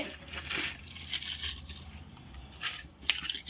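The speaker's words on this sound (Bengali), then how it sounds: "কিছু পাতা এরকম করে একটু গুঁড়ো করে নেব" Hands crush dry leaves close up for gardening, giving a dense run of crackling and crinkling. It is fairly loud and continuous, with sharper snaps near the end.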